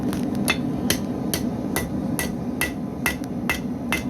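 A heavy blacksmithing hammer strikes hot metal at a forge in a steady, evenly spaced rhythm of about ten sharp, ringing blows, loud and close, over a constant background hum.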